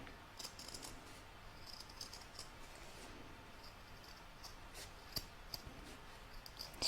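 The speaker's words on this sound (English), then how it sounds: "I'm just going to cut around roughly and then I'll trim it all up afterwards" Scissors cutting roughly around embroidered fabric for a lined Santa bag, a series of faint crisp snips and ticks at an uneven pace with soft rustling between, close and quiet with no voices.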